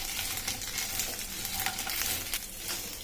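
Okra stir-fried in a pan for bendakaya pulusu, crackling with a continuous sizzle while a spatula scrapes and stirs at close range.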